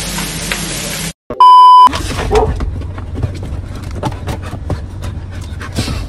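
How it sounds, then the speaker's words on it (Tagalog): A short electronic beep, then several dogs whimper, pant and call out nearby in a home, in soft, broken bursts. "the other dogs are calling for Louie"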